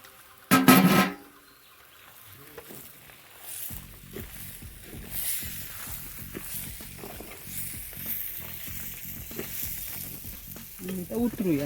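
Jackfruit vegetable sizzles in a pan over a wood-fired stove as grated coconut is stirred in, with a steady rhythmic scraping of the spoon over a constant close frying hiss.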